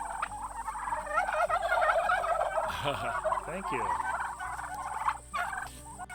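A flock of farm turkeys gobbles in rapid, warbling bursts close by, with a brief spoken phrase near the end.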